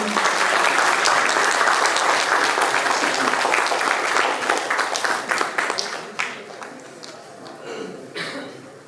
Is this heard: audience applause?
yes